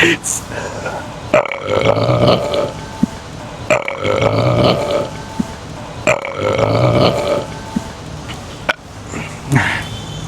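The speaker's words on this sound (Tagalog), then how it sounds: "biglang nag-excuse me tapos mong dumighay" After a drink of bottled water, a person lets out a loud, drawn-out burp, repeated in several long belches at regular intervals, close and prominent.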